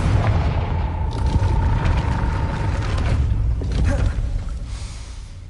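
Confringo spell explosion in the Hogwarts Legacy video game: a loud, rumbling blast with crackling debris that sustains for several seconds and then slowly fades.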